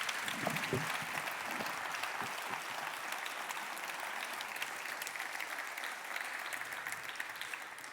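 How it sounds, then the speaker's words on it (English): A conference audience at WorldSkills Conference 2024 applauds in a steady, dense wash of clapping that holds evenly for several seconds at moderate distance, fairly soft overall. "Let's please give an absolutely fantastic round of applause."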